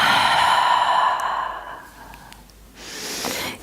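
A single long releasing exhale closes a yoga practice, a close, breathy sigh fading out over about two seconds before a short second breath of air.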